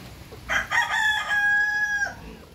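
A Kabir rooster crows once, loud and near, a rising ragged call that settles into a long sustained tonal note before cutting off, with a faint cluck at the start.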